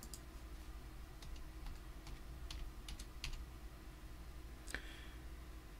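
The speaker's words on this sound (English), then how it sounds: "First, click the Start button and type SNDVOL." Short burst of light keystrokes on a computer keyboard in Windows 11, faint clicky taps spread irregularly over a low background hum.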